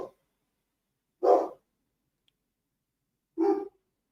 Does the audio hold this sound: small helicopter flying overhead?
no